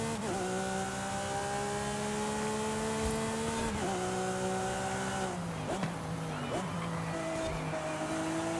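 A Lamborghini Veneno races in Forza Horizon 5, its engine holding a loud, steady high-pitched whine that drops sharply with each gear change and slows through a corner, with tire noise underneath.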